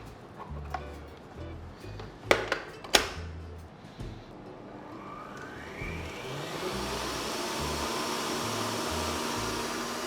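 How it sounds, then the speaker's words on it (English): An electric mixer on high speed whisks egg whites for a vanilla roll, starting after a few clicks and knocks and then settling into a steady, loud whir. "So we're whisking this on high speed."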